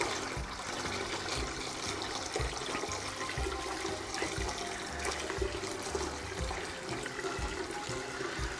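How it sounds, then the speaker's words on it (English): Reserved whey poured back into a pot while making provolone cheese at home, a continuous rushing, trickling liquid stream at close range, steady and fairly loud throughout, with no talking. "I'll also put some of that whey that I reserved back in as well."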